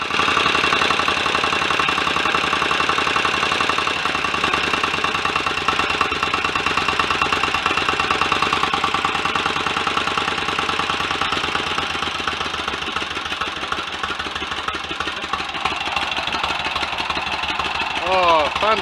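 Rebuilt Royal Enfield 1000cc Model K engine idling, a steady loud continuous mechanical chug with rattling texture running throughout, close up, with a voice speaking over it.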